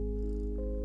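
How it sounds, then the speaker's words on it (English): A purring cat ambient loop from a soundscape game, a steady, loud, low continuous purr with a constant drone and no pauses. "right now I have purring kitty sound"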